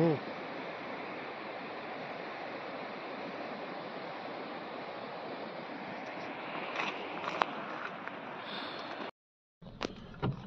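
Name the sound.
waterfall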